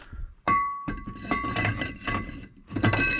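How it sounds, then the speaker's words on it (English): Metallic clunks and ringing clinks as an old brake rotor is pulled off the rear hub of a 2008–2013 Subaru Impreza, several close, sharp knocks with a sustained metallic ring in a garage setting. "And then off with the old rotor."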